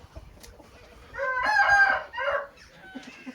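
A rooster crows once, loud and close, with a few soft clucks and scratchy farmyard noises around it.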